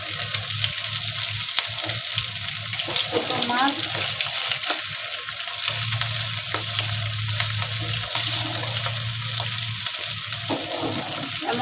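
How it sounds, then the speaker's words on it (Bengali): Small fish fry in oil and spices with no water added, giving a steady crackling sizzle close by, with occasional stirring and a voice speaking briefly over the pan. "এই মাছটা আমি কোনো পানি দিব না, কিচ্ছু দিব না, শুধু তেলের উপরে, তেল আর মশলার উপরে মাছটা ভাজা ভাজা হবে"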